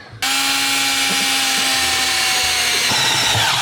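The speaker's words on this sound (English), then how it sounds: "then we have my handy dandy right angle drill for nice tight spaces" A right-angle power drill whines loudly and steadily at close range as it bores through car metal, its pitch shifting slightly under load near the end.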